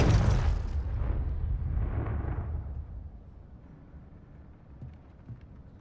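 A Confringo blasting spell explodes in the Hogwarts Legacy video game: one loud, booming burst that rolls away into a low rumbling tail over several seconds, with no voices.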